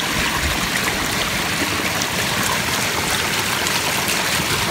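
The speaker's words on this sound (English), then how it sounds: "I really like the stream. Faces little rapids around the falls." A small backyard stream spills over little rapids near a waterfall, making a steady, close rushing and splashing wash that stays constant throughout.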